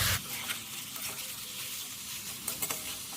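Chicken sautéed with spices in a pan over a gas stove on medium flame makes a steady, close sizzle, broken now and then by stirring scrapes and soft clinks.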